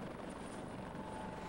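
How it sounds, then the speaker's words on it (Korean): A coast guard helicopter flies over the sea during joint maritime training with the navy. Its rotor and engine make a steady, faint, distant drone with no voices. "해상에서 최고의 기동력을 갖춘 헬기의 착륙 및 중간기 착지, 연료 보급 등을 상호 공유하기로 한 것이다."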